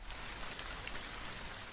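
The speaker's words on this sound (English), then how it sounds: "starts raining." Steady rain falls as an even, continuous hiss with soft scattered patter throughout, moderately loud and close, with no voices.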